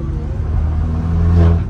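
A VW Caddy with a swapped 1.9 TDI PD150 diesel engine revs briefly and close by, a low droning rise that builds toward the end before easing off.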